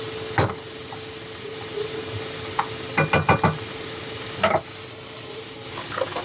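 Shrimp stir-frying in a pan for a cream cheese rosé pasta makes a steady low sizzle under a handful of sharp utensil clinks and scrapes, some coming as a quick cluster near the middle.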